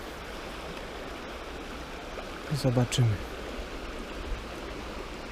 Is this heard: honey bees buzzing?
no